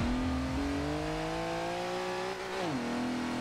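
VW Desert Dingo Racing Bug in Forza Horizon 2, its engine droning loudly and rising steadily in pitch under acceleration, then dropping briefly as a gear shifts before climbing again.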